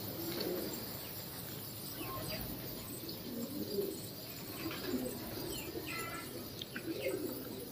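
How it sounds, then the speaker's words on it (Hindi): Three or four pigeons cooing softly from their perch in a large pigeon loft, low repeated coos sitting under steady, noisy outdoor ambience with occasional chirps. "तीन चार कबूतर बैठे हुए हैं।"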